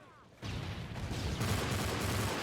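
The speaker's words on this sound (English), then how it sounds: "Burst fire Dragunov?" Burst-fire Dragunov rifle shooting in Modern Warfare 3 starts abruptly after a quiet moment and keeps up as a dense, continuous crackle of gunfire, loud and close.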